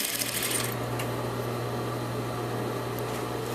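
A sewing machine back stitching a patch pocket runs as a steady, even mechanical whir with a low constant hum, close and continuous throughout, with no voices.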